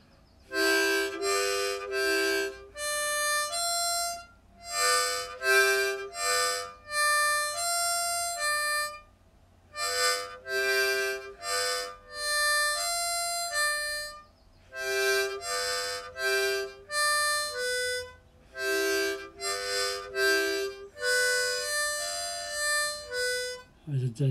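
Harmonica played in a chugging train rhythm, bursts of chords and single notes pulsing in steady repeated groups with short pauses between phrases, close and clear with no talking.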